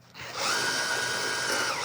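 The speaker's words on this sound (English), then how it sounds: "Let's drill a hole in this." A power drill spins up and whines steadily at close range, a single sustained burst of high-pitched motor noise.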